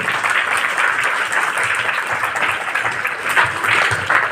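An audience applauds at a gathering, a continuous, even roar of many people clapping at once that holds steady throughout.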